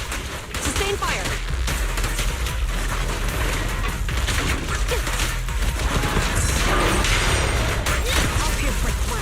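Sustained gunfire in a video game, a dense, continuous roar of rapid shots and blasts at a loud, constant level, with voices briefly heard under the barrage.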